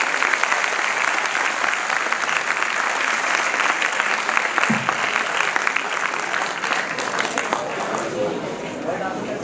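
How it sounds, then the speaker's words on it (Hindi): Loud, sustained audience applause fills the hall after a KL Theatre Sirsa stage performance at a youth festival, dense clapping running steadily throughout without a break. "अच्छी लगी है तो एक बार जोरदार तालियां।"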